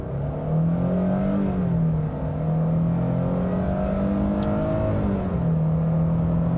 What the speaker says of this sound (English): I just want to try flooring it from a stop here and seeing if it can spin the tires out